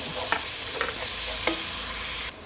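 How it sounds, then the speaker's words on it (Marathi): Tomatoes sizzle loudly in hot oil for a chicken cocktail pulav, with three distinct spoon stirs scraping the pan over a continuous frying hiss, close and without talk. "आतां हे टोमाट घाता तें भाजयता"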